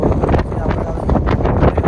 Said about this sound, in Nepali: हावा चाहिँ यहाँ यस्तो लागेको छ कि गाइज कुरै नगरौँ